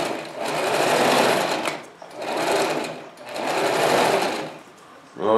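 A sewing machine runs in three steady stitching bursts, each about a second long, separated by short pauses, loud and close, with a voice starting at the end.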